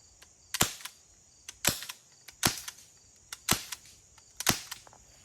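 Five sharp, loud airsoft shots from a Novritsch SSX23 pistol fired without a suppressor, each a crisp snap about a second apart with a short ringing tail, no talking.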